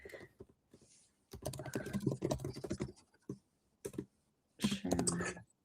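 Someone types on a computer keyboard in bursts of rapid, close clicking key presses, with pauses in between.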